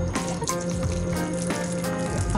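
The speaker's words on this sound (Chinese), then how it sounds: "我们就要加一些热水下去把它泡开。" Hot water pours steadily into a bowl of instant noodles for Thai-style fried noodles, a continuous close gushing splash with no talk.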